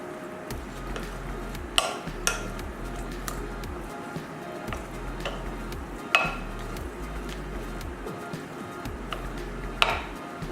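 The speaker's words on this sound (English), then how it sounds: "Mix this together." Salad of charred poblano, corn and sweet potato being mixed in a bowl, with soft irregular scrapes and a few sharper clinks of utensil against the bowl over a low steady background hum.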